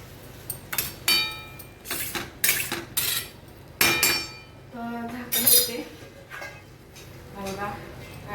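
A lid going onto a pan of mango sheera, with several loud metallic clinks and clatters of cookware and utensils spread through the stretch, while someone talks intermittently between them.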